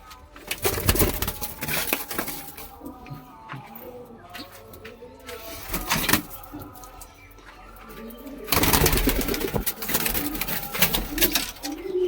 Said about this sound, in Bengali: বাড়ির বাচ্চা পায়রা, এই দেখুন